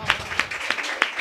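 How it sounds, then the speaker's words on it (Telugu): A church congregation at a Sunday service claps in a brief burst, four distinct claps spaced evenly, moderately close and fairly light. "చప్పట్లు కొడతారా?"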